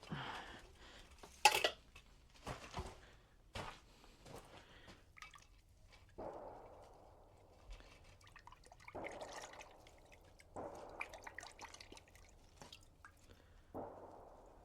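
Water runs and drips over a freshly finished cross peen hammer, heard as quiet, intermittent splashes and trickles with soft drips in between.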